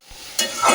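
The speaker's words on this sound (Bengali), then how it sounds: "মশলাটা খুব সুন্দর করে ভেজে নিয়েছি" Spices with cumin powder and ginger-garlic paste frying in a new wok, a brief close burst of sizzling with a quick stir or scrape swelling up, less than a second long.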